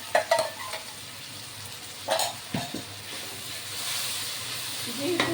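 Yogurt and tomatoes stirred into a frying chhena curry: soft sizzling and hissing with several scraping stirs of a utensil against the pan, close by, with a swell of frying near the end.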